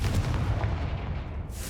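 A Confringo blasting spell explodes in the Hogwarts Legacy video game, a loud, dense boom that rumbles steadily for under two seconds with no talk over it.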